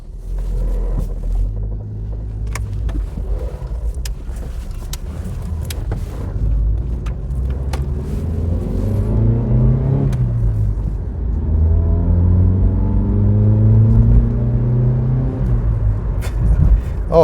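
An Opel Astra F's engine hums steadily from inside the car while driving, a loud continuous low rumble that rises in pitch as it accelerates through the gears, with no talk over it.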